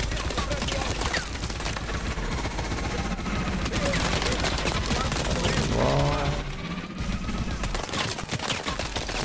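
Rapid gunfire in the strategy game Advance Wars, a dense continuous rattle of shots over game noise, with someone speaking over it.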